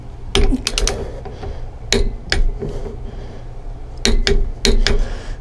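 Torque wrench clicking on a hub nut during a disc brake conversion and hub rebuild on a 14 bolt full floater axle: sharp metallic clicks in two close groups, near and fairly loud, with a steady low hum beneath.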